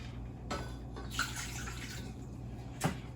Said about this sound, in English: I put 1 cup of water in here